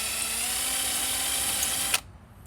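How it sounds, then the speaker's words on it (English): A power drill bores straight down through a brake line fitting held in vice grips, a steady high whine that runs for about two seconds and then cuts off abruptly. "we're just going to drill straight down through so that we can save the fitting"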